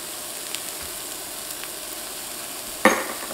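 Shallots and garlic sizzle quietly in a pan, a soft continuous crackle with one brief louder hiss near the end.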